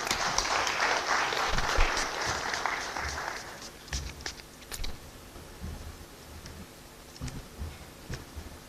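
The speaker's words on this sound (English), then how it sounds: "Round of applause, ladies and gentlemen." Audience applause at the Uganda Water and Environment Week conference, a dense burst of clapping that fades after a few seconds into scattered, sparse claps, with faint voices in the background.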